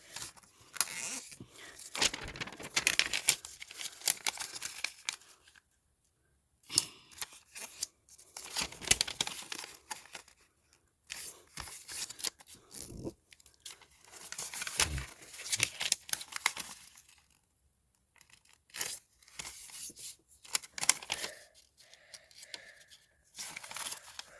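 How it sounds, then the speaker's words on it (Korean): Paper is being folded by hand for an origami paper blade, with crisp creasing, rustling and crinkling in short irregular bursts separated by brief silences. The sound is close and nobody speaks. "자, 그럼 접어보겠습니다. 일단 가로 세로 대각선부터 접어주세요."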